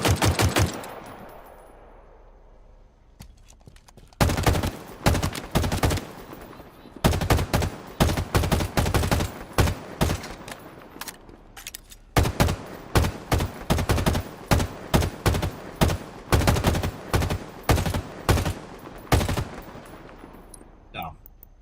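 Automatic gunfire in a video game match, rapid bursts of sharp, loud shots firing in repeated strings with brief pauses between them, close and dominant.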